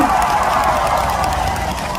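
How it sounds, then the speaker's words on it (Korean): Concert crowd applauding at an outdoor spring trot music show, a continuous rolling wash of many hands with a low murmur of cheering beneath, loud and sustained throughout. "오늘 박사님 잘했다 생각하시면 박수 한번 주시겠어요?"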